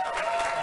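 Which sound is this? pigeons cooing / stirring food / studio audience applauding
studio audience applauding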